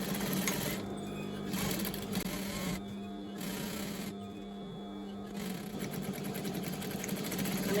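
A sewing machine runs in bursts along the seam where the waistband joins a pair of children's shorts, its motor whirring steadily with short pauses between stitching runs, close and fairly loud.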